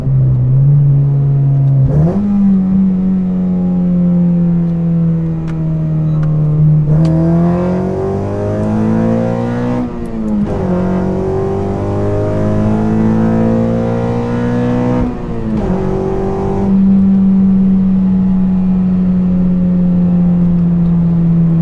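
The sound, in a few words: Honda Civic 9th gen engine revving with carbon fiber intake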